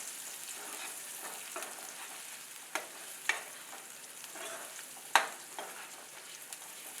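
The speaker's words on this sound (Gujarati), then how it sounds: "હવે તેમાં એક ઝીણી સમારેલી ડુંગળી નાખી. હવે આને હલાવીને 1 મિનિટ માટે" Finely chopped onion sautéing in a pan for a Gujarati dal khakhra recipe, a steady soft sizzle broken by a few faint scrapes and taps of stirring.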